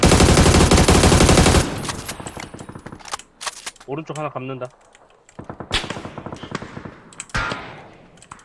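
Dense bursts of rapid automatic gunfire in PUBG, loud and close, then scattered shots and clicks as a player talks briefly between them.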